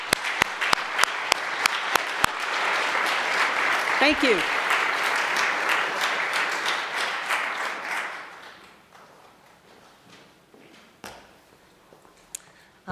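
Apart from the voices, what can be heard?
congregation giving a round of applause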